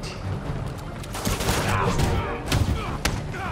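Sniper rifle fire in Marvel's Spider-Man, several sharp cracks ringing out over a busy backdrop of game noise, with a few distinct loud shots spaced through the moment.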